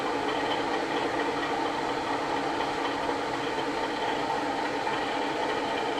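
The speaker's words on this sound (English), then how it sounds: "I can now wind the engine revs down and drive along in about half power" Low-revving engine sound from a Heljan O gauge Class 33 model diesel locomotive, a steady broadband drone with no changes in pitch, held evenly throughout.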